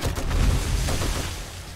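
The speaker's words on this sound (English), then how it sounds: "Explosion!" A deep, rumbling blast in the video game 7 Days to Die, heavy low-end boom that swells quickly and then decays slowly over a couple of seconds, loud and alone with no talking.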